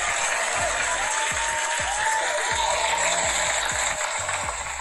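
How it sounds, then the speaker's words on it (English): Dense, steady applause from an audience at a holiday story-time event, loud and continuous throughout, tapering slightly at the very end. "let's give a clap for Matthew Vega for being a YouTuber"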